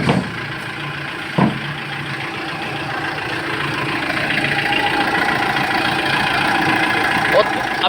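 A Kia Bongo 3 CRDi diesel engine with a fault, white smoke and low power idles steadily, a continuous mid-low drone with faint knocking, while people talk over it and a brief clunk sounds early on.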